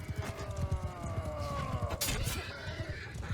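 Cavalry horses charge in a Roman-era battle video game, with hooves pounding in a rapid rhythm, whinnies rising above, and a sharp burst of impact near the middle, all loud and close.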